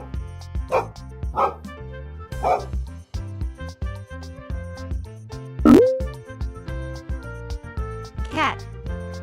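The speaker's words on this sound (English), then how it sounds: "Dog." Dog barking in a children's animal-sounds recording, several short, loud, near barks spaced apart over a bright melodic music backing.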